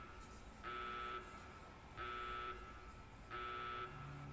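Electronic beeping in Fallout: New Vegas sounds three times, each a steady half-second buzzing tone with a regular gap between, clear and prominent over a quiet background hum.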